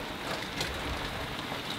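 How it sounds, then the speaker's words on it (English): Heavy rain pouring down in a sudden downpour, a steady dense hiss of falling water throughout, with no voices. "It's throwing it down with rain all of a sudden"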